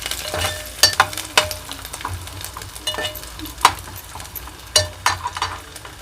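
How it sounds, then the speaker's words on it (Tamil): Garlic sautés in a pan for drumstick garlic kuzhambu, a soft steady sizzle punctuated by sharp scrapes and clinks of a spoon stirring at an irregular rhythm. "பூண்டு லேசாக வதங்கிடுச்சு."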